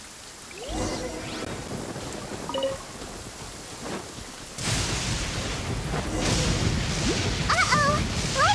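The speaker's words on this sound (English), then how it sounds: "Lightning storm!" Thunder rumbles and rain pours during a lightning storm in a video game, starting quieter and then swelling into a loud, steady downpour with crashing thunder, while faint game tones chime in the background.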